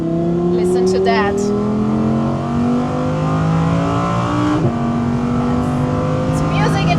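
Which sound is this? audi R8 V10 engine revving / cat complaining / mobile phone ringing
audi R8 V10 engine revving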